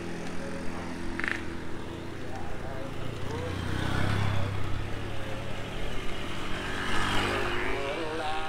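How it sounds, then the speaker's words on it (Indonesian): A motorcycle engine strains up a steep village hill climb near Bandung, a continuous mid-distance drone that swells slightly midway, heard under outdoor ambience with some voices. "Motor aja ngeden itu"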